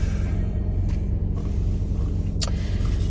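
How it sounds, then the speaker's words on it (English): A car engine idles as it warms up on a cold morning, a steady low rumble close by that holds constant throughout, with a couple of faint brief sounds above it and no talking. "Let me let this car warm up a little bit more."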